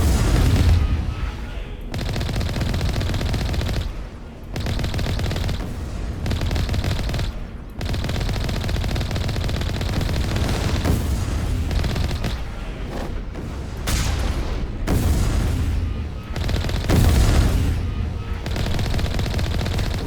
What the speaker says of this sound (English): Let's try and shoot that down.